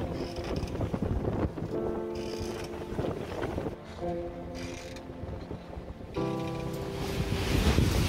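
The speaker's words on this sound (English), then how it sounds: "Really sailing now. This is probably the fastest that we've been. Going maybe 7 knots. It's a bit wild." Small sailboat moving fast at about seven knots in strong wind, waves splashing and wind buffeting the microphone in uneven bursts, with creaking tonal sounds from the boat coming and going throughout.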